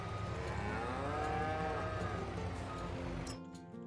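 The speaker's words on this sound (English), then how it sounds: "Let me get these cows switched out real quick" Dairy cows low on a farm, a long drawn-out moo rising and falling in the middle amid barn background noise, fairly faint, with no talking.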